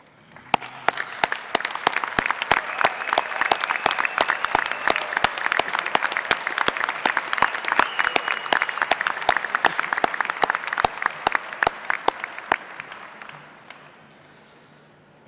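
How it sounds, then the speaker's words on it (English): Graduates clapping for their families at a Kansas State University spring commencement in agriculture, a long loud sustained round of applause with sharp individual claps standing out, tapering off near the end. "graduates, make sure you give them a loud round of applause"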